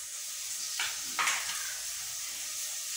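Chopped tomatoes going into a hot pan for a Kerala crab roast masala, a steady close sizzle of frying that flares up briefly as they are added and stirred.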